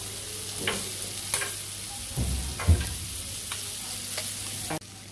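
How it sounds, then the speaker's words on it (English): Chopped onion and pepper sizzle in a pan for a Cajun shrimp dish, giving a steady hiss with a few stirring scrapes and a spatula knock near the middle before the sound cuts off at the end. "I'm going to add my little pieces of onion, and I am going to be adding that pepper"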